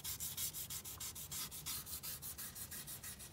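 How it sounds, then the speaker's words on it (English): Sandpaper is rubbed by hand on a 22-inch car wheel in steady back-and-forth strokes, a close, loud rasping that repeats about five times a second, with no talking. "Sand it down and paint it."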